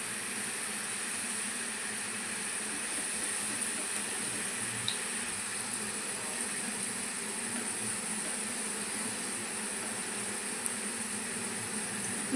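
Mung dal frying in hot oil in a strainer dipped into the pan, a steady broadband fizzing hiss that holds evenly throughout, with no talking.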